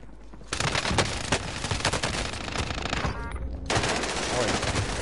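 Rapid bursts of automatic gunfire crackle in Call of Duty Modern Warfare, loud and dense, with a brief break before another stretch of firing; someone talks quietly underneath.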